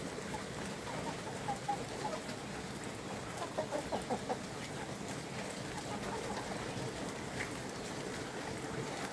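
An aggressive chicken clucks in short rhythmic bursts over steady light rain on a home farm, fairly close and moderately loud.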